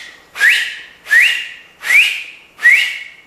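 A finger whistle blown four times in a steady, evenly spaced series, each blast loud and close, rising quickly in pitch and then holding before cutting off, with no talking.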